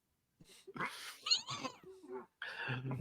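Several short meows and caterwauling cries from cats, close and fairly clear, with one strained, rising call among them.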